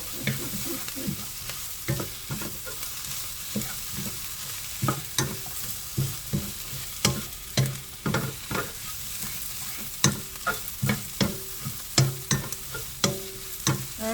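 Fish cakes stir-fried in a pan sizzle steadily while a utensil scrapes and clacks against the pan in a repeated stirring rhythm, close and clear with no voices.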